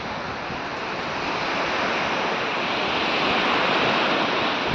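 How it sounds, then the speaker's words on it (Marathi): Sea waves roll in at Dahanu beach, a loud, steady broadband wash of surf that holds without a break, with wind adding a faint roar. "तुम्ही बघू शकता डहाणूचा समुद्र"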